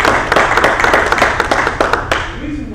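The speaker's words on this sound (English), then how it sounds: "Yeah, see, let's give that a round of" Audience clapping in a meeting room, a ragged burst of many hands that is loud at first and thins out toward the end.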